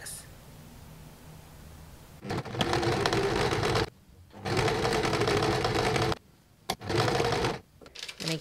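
A sewing machine stitches a jacket lining in three close bursts of steady whirring, with short pauses between them and nobody talking.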